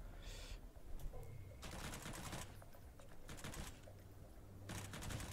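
Bursts of rapid gunfire from the video game Sunkenland, several clusters of shots cutting through steady background game noise and hum.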